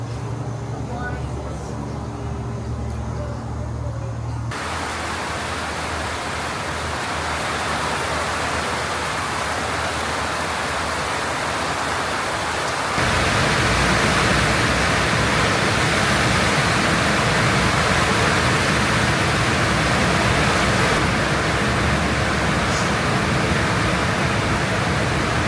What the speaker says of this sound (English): Well, the storm is coming for us. It's getting closer.